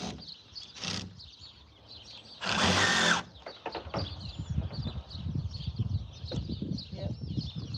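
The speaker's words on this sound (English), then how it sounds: "I had to drill that out some more because I want my screw head to go in farther." A power drill bores out a screw hole during a van roof deck rebuild, one loud sustained burst of roughly a second with faint birdsong and clattering work noises around it, and brief talk nearby.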